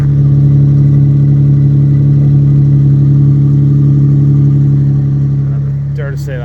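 A 1968 Jaguar MK2 240 with manual gearbox, overdrive and stainless steel exhaust idles steadily and loudly up close, a deep even drone throughout with a brief clatter near the end.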